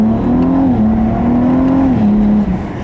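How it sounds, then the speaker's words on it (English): A 2016 Cadillac ATS-V with an automatic transmission and a twin-turbo engine pulls hard under acceleration. It is heard from inside the car as a loud, steady engine drone whose pitch climbs, briefly dips at what sounds like a gear change, then climbs again. "The thrust from those turbos though, I mean, it really just plants you back in your seat hard."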